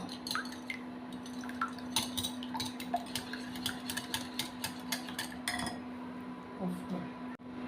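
An egg beaten in a bowl for Bengali jamai pitha batter, quick repeated clinking taps of a utensil against the bowl in an uneven rhythm, close and fairly quiet over a low steady hum.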